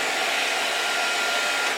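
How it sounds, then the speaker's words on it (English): A hair dryer blows steadily while styling a young person's hair, a loud, constant close-up whoosh with no voices. "blow drying"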